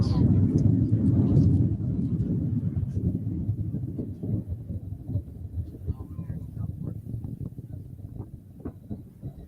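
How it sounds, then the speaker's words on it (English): Distant rocket liftoff, a low broad rumble rolling in heaviest at first and then fading unevenly, with a voice talking over it. "Was that the rocket lifting off?"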